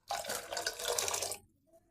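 Water pours steadily into a cooking pot for salna for about a second and a half, a close splashing rush that stops abruptly, followed by quiet.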